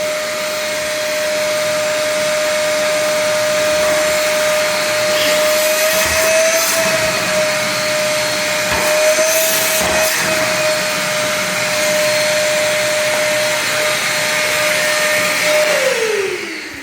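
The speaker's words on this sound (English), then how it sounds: "So we'll hoover it up" A DEWALT DXVCS002 cyclone dust collector fitted to a vacuum roars steadily and loudly while sucking up debris, a constant high motor whine holding for about sixteen seconds before winding down at the end.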